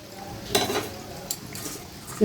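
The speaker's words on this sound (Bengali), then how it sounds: "এটা এরকম নাড়ানি নিচে তেলটা ঝরে যায়।" Fried thekua, a sweet wheat snack made for Chhath Puja, stirred and lifted from hot frying oil, giving soft sizzling with a sharp scrape of a utensil against the pan and a few light clinks, with no talk.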